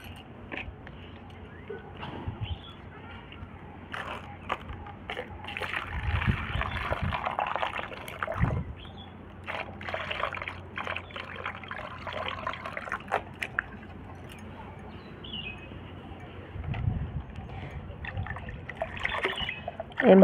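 Water poured and trickled into a homemade neem-leaf liquid fertilizer mix for garden plants, with splashing and dribbling bursts near the mic, louder swells around the middle and toward the end, with no voices.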